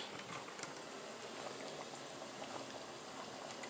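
Succotash simmering in a pot, a steady, soft bubbling and crackling texture that stays continuous and fairly quiet throughout, with no voices.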